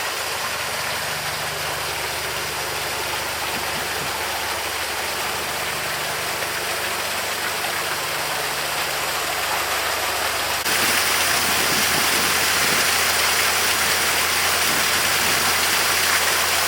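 Water thundering into a deep canal lock on the Watford Staircase through ground paddles, a dense continuous roar that swells louder partway through, with a boat engine idling low beneath it and no talking.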